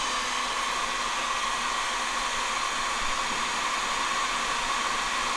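A heat gun blows steadily and loudly at close range, shrinking heat-shrink tubing over crimped wires during radiator fan wiring on a 1969 Chevy C20 pickup, a continuous even roar with no talking.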